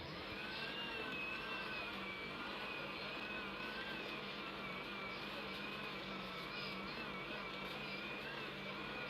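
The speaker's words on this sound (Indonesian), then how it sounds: "Tapi di sini saya akan mixer lagi." An electric mixer kneads donut dough, running as a steady, quiet motor whir with a wavering whine throughout.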